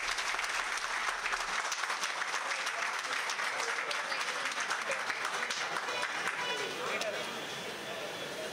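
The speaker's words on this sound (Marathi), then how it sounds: "सगळ्यांनी जरा जोरदार टाळ्या वाजवायच्या आहेत।" Audience at a book release ceremony for a poetry collection clapping together, a dense, steady round of applause that stays loud for several seconds and then softens slightly toward the end, with faint crowd murmur beneath.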